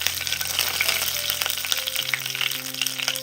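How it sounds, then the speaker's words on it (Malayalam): Dried red chillies and curry leaves frying in hot oil on a low flame, a steady close crackling sizzle throughout with faint stirring, no voices. "ഒരു 4 വറ്റൽമുളക് ചെറുതായിട്ട് കട്ട് ചെയ്തിട്ട് കൊടുക്കാം. അതുപോലെ തന്നെ കുറച്ച് കറിവേപ്പിലയും കൂടി ഇട്ട് കൊടുക്കാം."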